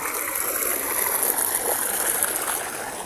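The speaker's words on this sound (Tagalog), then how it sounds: "Ang lakas ng tubig galing sa bundok." A strong mountain stream surges down toward rice fields where it is being diverted, making a steady, full rushing roar up close, unbroken and without speech.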